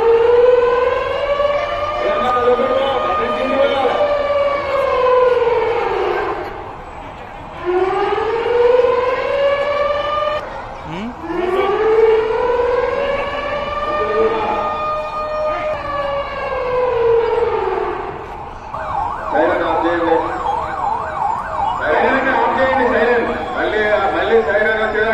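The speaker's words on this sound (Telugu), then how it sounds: "సైరన్ సౌండ్ రాగానే ప్రజలు సురక్షితమైన ప్రాంతాలకు వెళ్లిపోవాలని" A civil defense siren wails during a police mock drill, its tone rising and falling in long repeated sweeps, loud and close, with crowd chatter and talk audible between cycles.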